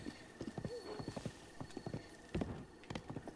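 A horse galloping and neighing in Zelda: Breath of the Wild, with steady hoofbeats throughout, a short whinny early on, and a faint voice briefly heard over the game sounds.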